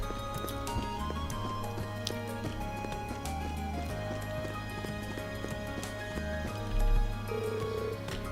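Horse hooves clip-clopping in a steady walking rhythm in the Trails of Cold Steel video game, heard under continuous game music, with a short whinny near the end.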